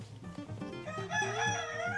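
A parrot in a parrot aviary gives a loud, close, raspy crowing call rising into a sustained harmonic cry, with no talk.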